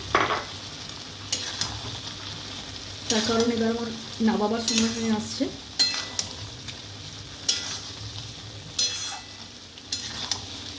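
Fried potatoes and paneer stirred in a pan with spices for a milk paneer dish, giving soft scraping and sizzling with several bursts of spatula scrapes, close and moderately loud, under a steady background hum; a voice speaks briefly.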